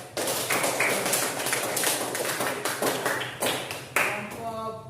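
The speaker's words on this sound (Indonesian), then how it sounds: "Kita beri aplaus untuk kelompok" Classroom applause for a student group presenting a short story, a dense burst of many hands clapping for several seconds, with some voices mixed in.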